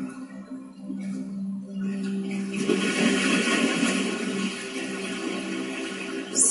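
A meditation sound effect of an ocean wave rolls in over soft sustained ambient tones, swelling into a broad, rushing wash that stays loud to the end.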